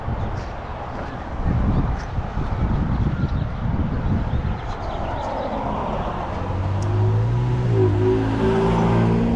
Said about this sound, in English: Car's kind of speeding through the cemetery.